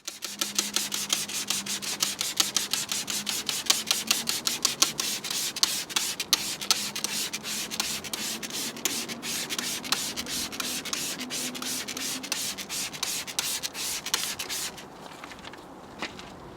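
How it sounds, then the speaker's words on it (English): A brush scrubs a car boot carpet soaked with upholstery cleaner in quick repeated linear strokes, a close, rhythmic rasping that runs steadily and then stops near the end. "thoroughly worked in with the brush using linear motions which simultaneously cleans the carpet and dislodges any more deeply ingrained pet hairs"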